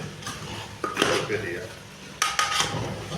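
Bihari chicken curry cooked without water being stirred in a pot, with scraping and clinking of a metal spoon against the pan in several irregular strokes, close up, amid faint background noise.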